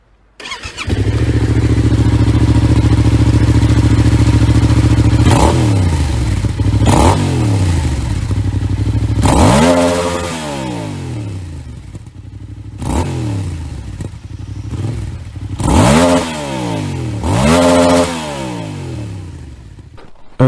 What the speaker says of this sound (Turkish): şu an bir egzoz deneyelim bakalım